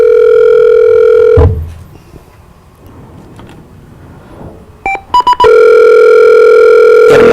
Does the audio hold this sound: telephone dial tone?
yes